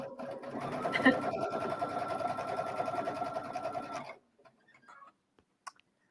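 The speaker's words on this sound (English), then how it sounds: "we're just going to straight stitch this guy right here" A sewing machine straight-stitches fabric for a pocket scarf, its steady rapid whirring hum running close and loud for about four seconds before stopping, followed by a few faint clicks.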